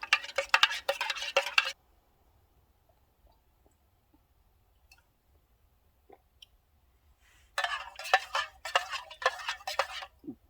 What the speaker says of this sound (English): Our canteen cups are like one of the worst shapes for stirring that has ever been invented.